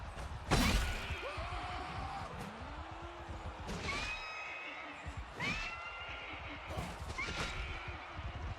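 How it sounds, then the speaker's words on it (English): Several horses neigh in succession in the strategy video game Voor de Kroon, their whinnies rising and falling over a thump and crash near the start and a steady clatter of battle noise. "Why are you sending horses against me?"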